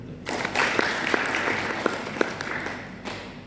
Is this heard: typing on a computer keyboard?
no